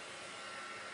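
A heat gun or hairdryer blows hot air during a ribbon-wrapped Easter cross craft project, a steady, even whooshing rush held at constant level, quiet and alone with no talking.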